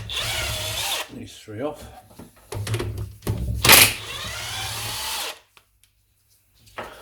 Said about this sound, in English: Oh, life is so much easier with a cordless impact driver.